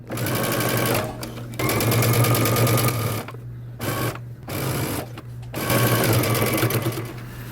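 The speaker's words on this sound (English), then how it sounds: "Now starting at the underarm seam and using 5/8 of an inch seam allowance, we're going to stitch all the way around." A sewing machine runs in bursts while stitching a sleeve band around a jacket sleeve, loud close whirring runs broken by short pauses and a few brief start-stop stretches.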